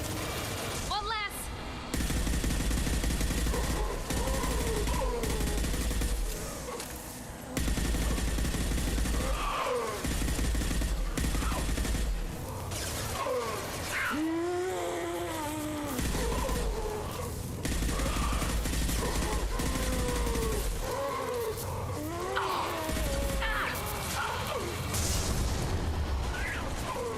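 Gunfire from the video game Mass Effect 2 in dense bursts and rapid volleys, with booming impacts mixed in, loud and sustained, while voices call out in between.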